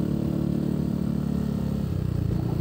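A motorcycle fitted with an aftermarket Krace exhaust runs close by, its steady low engine drone holding throughout with a faint clatter and slight rise in rumble, no voices over it.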